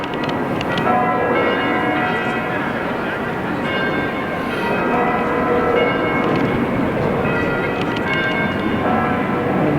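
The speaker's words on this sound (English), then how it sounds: "Quite a common feature of Bergamo is hearing a lot of bells." Many church bells clang and ring together in a dense, continuous wash, fairly loud, over a rumbling outdoor city background in Bergamo, Italy.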